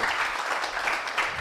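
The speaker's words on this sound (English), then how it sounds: "So give a this grand claps of applause to Professor Birende." Audience applause after a mathematics lecture on metrical fixed point theory, a dense burst of clapping from a hall crowd that fills the short moment without voices.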